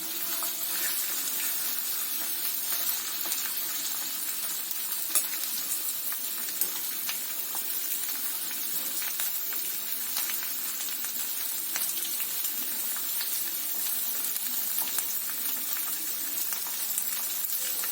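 Cumin seeds and garlic cloves fry in hot oil with a continuous, even sizzle. Fine crackles and pops are scattered through the sound, which stays close and steady for the whole stretch, with no voices.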